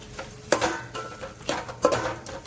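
A medium-size tomato goes into a pot of moong dal khichdi and is stirred, with a few distinct clinks and scrapes of a spoon against the pot over a faint background.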